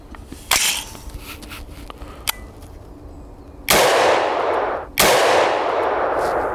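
A rifle firing an XM193 round at a Level III+ lightweight body armor plate outdoors: two loud, sharp shots a little over a second apart, each with a long ringing decay, after a few fainter clicks and knocks.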